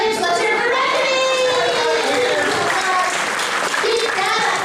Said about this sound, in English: Keep that applause going for